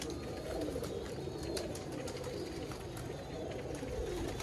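Soft coos from seven or eight pigeons on a rooftop blend into a steady outdoor hum, a low murmuring call repeating faintly throughout with no distinct voices.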